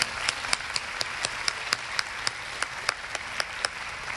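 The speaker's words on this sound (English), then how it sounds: "Let's give our sponsors a round of applause." An audience at a 2016 Tri-City Regional Chamber Women in Business event applauds its sponsors with a steady, moderate patter of clapping. A few sharp, distinct claps stand out above the wash at regular intervals, and the whole sounds fairly close.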